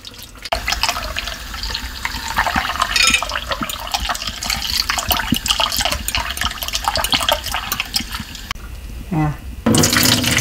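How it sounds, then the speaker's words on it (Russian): Cold tap water runs steadily into a bowl as pike roe is rinsed by hand, with splashing and swirling throughout, a brief lull near the end, then a loud gush as the stream resumes. "И теперь ее промываем 5 раз холодной водой до чистой прозрачной"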